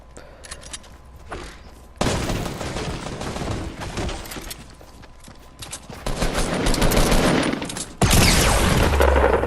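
Fortnite Battle Royale gunfire comes in loud, dense bursts of rapid shots, starting suddenly and returning in louder volleys toward the end, close and unbroken by talk.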